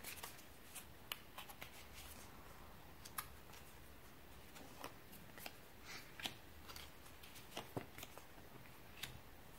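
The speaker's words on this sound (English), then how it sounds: "let's give it another good shuffle for the people that chose the left" A deck of cards riffled and shuffled in repeated crisp bursts, close up and fairly quiet, with brief pauses between riffles and no talking.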